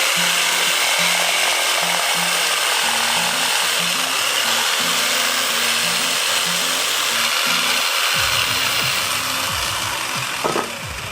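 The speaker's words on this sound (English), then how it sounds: "There's a Bosch professional jigsaw, really good bit of kit." A Bosch professional jigsaw cuts a skirting board held by hand on a bench, giving a loud, steady buzzing rasp that stutters as the blade works through the wood, then eases toward the end.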